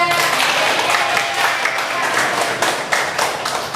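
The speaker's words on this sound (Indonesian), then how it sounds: "Tepuk tangan untuk kelompok 3." Classroom audience clapping for a student group during a lesson, a dense burst of many hands clapping together, loud and close, with some voices mixed in.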